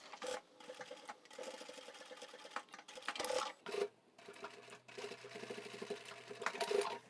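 A sewing machine stitches a fabric storage basket in short, rapid mechanical bursts separated by brief pauses, close and fairly quiet, with no talking.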